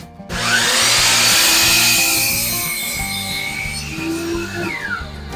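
A power tool cuts a wooden backboard for a Moxon vise, a loud whining mechanical drone starting abruptly, holding steady, then easing slightly toward the end as the cut finishes.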